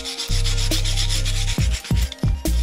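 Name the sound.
wire brush scrubbing moss off stones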